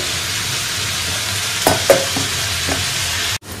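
Potatoes frying in a pan give a steady close sizzle, with a few brief louder scrapes or stirs partway through and a sudden cut near the end; no one speaks.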